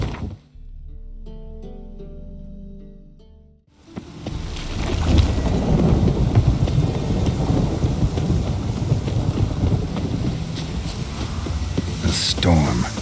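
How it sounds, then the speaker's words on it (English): Rumbling thunder and steady heavy rain from a storm in The Witcher 3 video game, swelling loudly after a quieter musical opening and continuing as a dense wash with a sharp crack near the end. "A storm, damn it."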